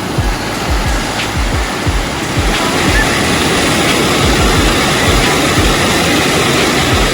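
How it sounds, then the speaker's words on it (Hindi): A mountain waterfall on the Tandi to Shinkula Pass route in Ladakh, a constant loud rush of falling water close by, with a steady low rumble and no clear speech. "आपको एक झरना दिखाता हूँ मैं।"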